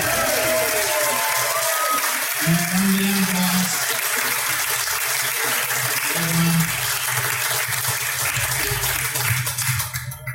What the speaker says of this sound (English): big round of applause for Big Shanks and Smokin Barbecue